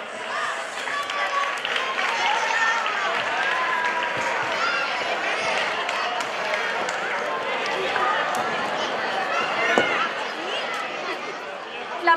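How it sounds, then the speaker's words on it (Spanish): A crowd gathered at a popular cross-country race in Valtierra claps and chatters continuously for the finishers, a steady, moderately loud wash of applause and voices with runners' footsteps and brief talk mixed in. "Un fuerte aplauso"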